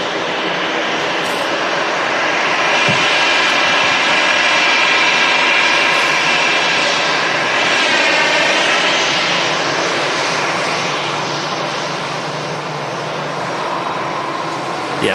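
Boeing 767 jet at Manchester Airport on a football charter, a loud sustained engine roar that swells and holds steady for the whole stretch, broadband and rumbling with no voices.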